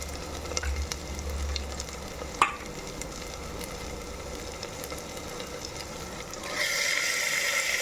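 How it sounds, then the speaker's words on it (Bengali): Red meat is braised in oil inside a pressure cooker, giving a constant sizzling hiss with one sharp clink of a utensil, then a brighter, louder frying surge near the end. "এই যে পুরো লাল টুকটুকে মাংস তো দিতে থাকছি বন্ধুরা কুকারেই আমি কষিয়ে নিচ্ছি"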